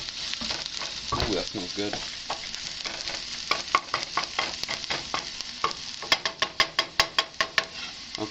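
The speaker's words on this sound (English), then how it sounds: "Let those sizzle for a few seconds here." Hot sauce ingredients searing in a pan, a steady close sizzle with repeated utensil taps and scrapes that grow sharper and more rhythmic toward the end; a voice speaks briefly.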